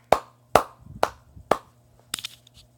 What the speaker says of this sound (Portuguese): Vou até aplaudir